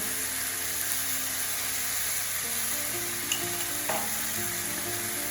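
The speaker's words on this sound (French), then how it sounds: "Vous voyez, mon miel fond dans ma poêle." Honey melts and caramelizes with pieces of veal in a frying pan for a veal tajine, giving a steady, moderately quiet sizzle with a few small pops and stirring scrapes.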